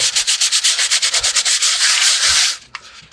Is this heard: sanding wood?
yes